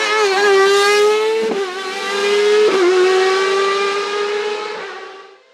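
A Tracking RC01B prototype race car with a motorcycle engine screams past at a hill climb, its high-revving note holding loud and steady with sharp gear changes before fading away.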